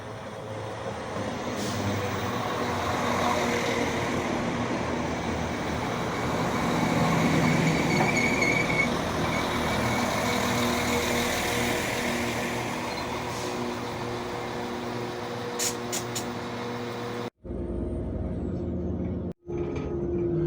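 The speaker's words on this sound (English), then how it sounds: "now I'm on my train to Darlaston" Train interior on a rail journey to Darlaston, a steady rumbling run with continuous rolling noise and faint clanks, ending in two abrupt cuts near the close.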